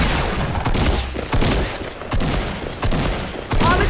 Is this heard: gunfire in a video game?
yes